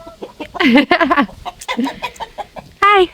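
Chickens cluck and squawk close by in a quick burst of bird calls, with a short greeting spoken among them.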